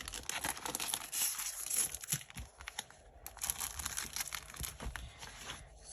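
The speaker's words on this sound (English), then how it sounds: "I can put my stickers away." Sheets of stickers are handled and put away, giving close crinkling and crackling rustles in irregular bursts with short pauses between them. No one talks.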